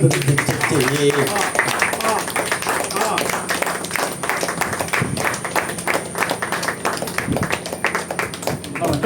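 An audience at an honouring ceremony claps in a dense, rapid patter that lasts throughout, close and fairly loud, with voices talking over it.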